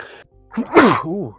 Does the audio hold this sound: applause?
no